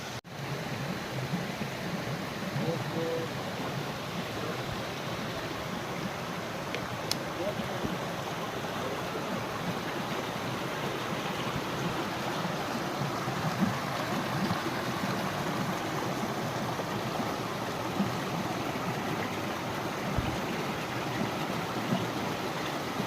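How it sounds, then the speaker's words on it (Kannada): The Netravati river rushes over rocks on the Nethravathi peak trek, a steady, unbroken roar of flowing water at close range. "ಇದು ನೇತ್ರಾವತಿ ನದಿ ಮೇಲಿಂದ ಉಗಮ ಆಗುತ್ತಲ್ಲ ಅದು ಇಲ್ಲಿ ಹರ್ಕೊಂಡು ಹೋಗುತ್ತೆ"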